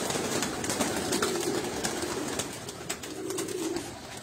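Pigeons coo in a loft, soft low repeated cooing under a steady, busy background wash of birds and ambient noise, with no talking.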